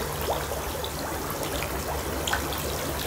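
Compost tea mixed with molasses is poured thinly over plants, giving a steady, close trickling and splashing flow with small drips standing out.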